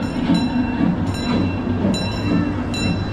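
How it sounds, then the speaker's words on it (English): Decorated theme park train at Europa Park rolling past close by, a steady loud rumble with repeated rhythmic clicks and clacks from the wheels and a faint high ring, with no talking. "Here's the beautiful train."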